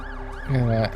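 An ambulance siren wails in The Alters video game, loud and close, its pitch sweeping up and down in a rapid repeating cycle that swells louder midway through.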